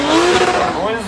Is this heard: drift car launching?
yes